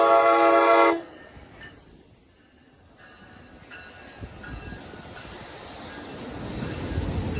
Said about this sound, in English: And now here comes Amtrak Capital Corridor Train 540